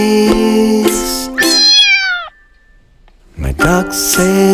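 A cat meows loudly and close, two long drawn-out calls separated by a pause, with no one talking.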